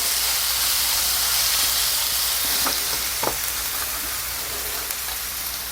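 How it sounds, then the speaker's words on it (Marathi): A ground ginger, garlic and green chili paste sautéing in hot oil for vada pav: a continuous, close sizzling hiss with a couple of faint stirring knocks, and no voices. "वाटण केलं होतं आलं लसूण आणि मिरची ते घालते हे मिनिटभर परतून घ्यायचं आहे"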